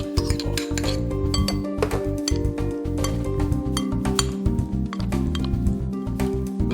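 Chopped onions, cubes of cooked potato and finely diced tomatoes are tossed together in a bowl, giving close, steady clinks and scrapes of a utensil against the dish with a busy, continuous rhythm and no talk.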